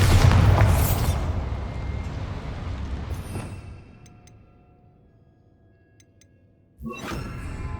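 A Bombarda spell blast in Hogwarts Legacy opens with a loud booming explosion and crackling debris that slowly decays, followed by faint magical chimes and another burst of impact noise near the end.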